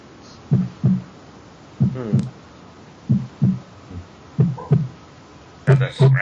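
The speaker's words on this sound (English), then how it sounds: "show what happens when we raise the peak and scrub across the mid area of the kick itself" Kick drum from a low-end mix, hit in a slow paired thump-thump pattern like a heartbeat, five clear double hits with a boosted mid peak swept across it, giving a shifting scratchy tone.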